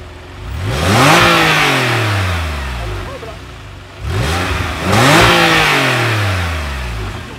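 Porsche without its sport exhaust revving hard twice, each burst rising sharply in pitch and then falling away, loud and close by, with no speech over it.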